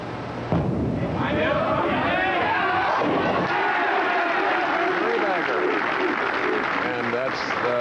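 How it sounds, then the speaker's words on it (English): A crowd at a 1987 PBA Miller Lite Open professional bowling event chants and cheers loudly and continuously, a dense roar of voices filling the hall for several seconds. "that's the crowd chanting for Norm Duke"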